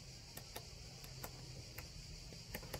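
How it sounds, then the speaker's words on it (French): Cicadas chirp outdoors in a steady, faint high-pitched drone, broken by several sharp ticking clicks scattered through it, with no talk. "comme vous entendez, j'ai mes amis les cigales qui nous accompagnent"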